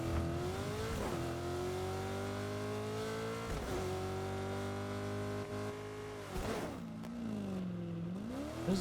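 Car engine in Fortnite Chapter 6 zero build, droning steadily as the vehicle drives, with a few dips and rises in pitch as it revs, continuous and fairly quiet with no talk.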